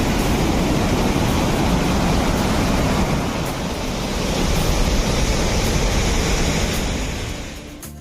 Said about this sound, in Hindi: फिर रास्ते में मुझे दूसरा वाटरफॉल मिला है जो कि बहुत ही प्यारा है।